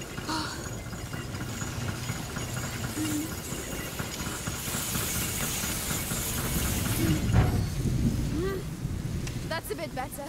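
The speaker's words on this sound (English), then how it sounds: "Don't worry, the storm will drown out our voices." Stormy weather with rain in the game A Plague Tale: Innocence, a constant heavy hiss of rainfall and rumbling wind filling the scene, with brief distant voices near the end.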